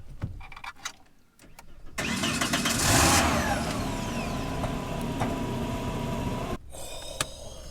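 A Renault Clio Williams 2 engine cranks and catches, surging into a loud rev before settling to a steady idle, close by.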